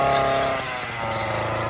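A gas-powered brush cutter drones loudly as it clears a section of brush near a house, its engine note wavering under load before cutting off abruptly at the end.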